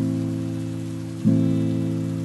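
Steady rain falls throughout with a continuous even hiss, mixed under sustained low tonal music, which swells slightly in the second half.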